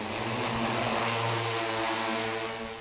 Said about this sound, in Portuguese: Já está cada vez mais comum ouvir esse som numa lavoura de café. O drone que faz a pulverização é uma realidade